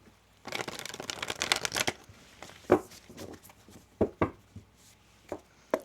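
A tarot deck is riffled quickly in a rapid burst, then a few separate taps and slaps follow as the deck is squared, close by.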